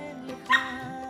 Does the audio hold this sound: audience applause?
no